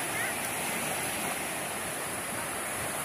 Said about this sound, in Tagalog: Ang ganda po ngayon ang ating dagat.